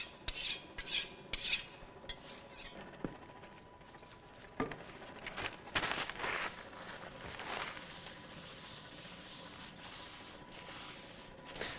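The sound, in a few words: scraping resin from an SLA 3D printer into the trash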